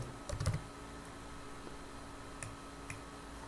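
A handful of sharp keystrokes on a computer keyboard while entering text in an Excel spreadsheet, clustered near the start with two more isolated taps later, faint and close over a quiet room hum.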